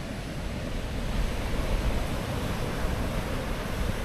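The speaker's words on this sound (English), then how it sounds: "The waves are kind of weak today." Mellow, weak ocean waves wash onto a beach on a calm day, a steady broadband surf wash with gentle swells and some wind, close and continuous with no talking.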